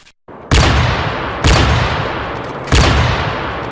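Three loud, sharp gunfire bursts ring out at even intervals, each exploding suddenly and trailing off in a long noisy decay, with no voices.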